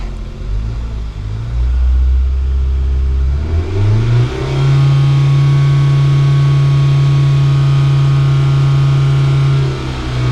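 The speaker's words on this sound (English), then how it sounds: "See if I can rev it up." A Hyundai car engine with a clogged catalytic converter revs up from idle, climbing in pitch to a steady raised drone that holds for several seconds before dropping off, loud and close with no talk.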